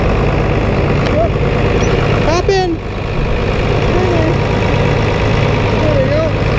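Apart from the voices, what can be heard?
farm tractor engine idling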